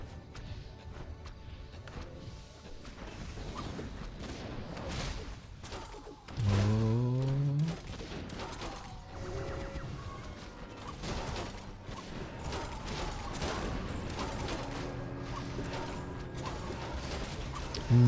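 Mortar fire in a Warcraft III match with massed Dragonhawks, heard as a busy spread of mechanical clanks, thuds and crashing impacts, including one loud burst, under constant game effects.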